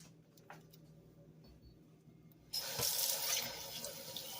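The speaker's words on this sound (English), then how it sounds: "I rinse this out with water" Tap water starts abruptly and runs steadily into a cooking pot being rinsed in a kitchen sink, after a few seconds of faint background clatter.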